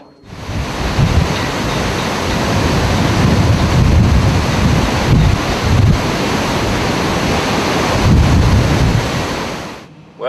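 Storm surge from the Gulf of Mexico flooding a hotel parking lot in Gulfport during a storm, a loud continuous roar of rushing water and heavy wind buffeting the microphone, with no talking.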